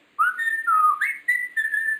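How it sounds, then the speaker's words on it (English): Someone whistles a short, wavering tune in four clear phrases, close up with a quiet background. "Can you whistle?"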